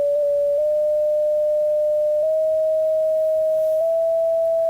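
A steady synthesized sine tone generated by real-time Bela audio code holds its pitch and then jumps upward in small discrete steps every second or two, a pure continuous whine with no talking.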